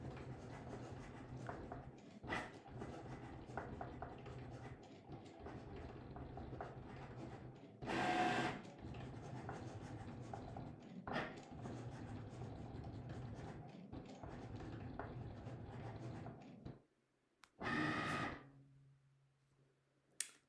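A Cricut cutting machine drawing with a watercolour marker, a steady mechanical whirr and rattle running almost continuously with brief louder motor bursts, a short pause near the end, then a final movement.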